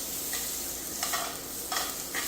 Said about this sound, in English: can go ahead and start flipping our asparagus around